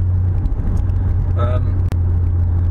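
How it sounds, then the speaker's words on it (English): Cabin road noise inside a 2013 Mitsubishi Lancer Evolution GSR sports car, heard as a loud, steady low rumble and tire roar, with a brief tonal whine partway through and one sharp thump. "Road noise, not bad."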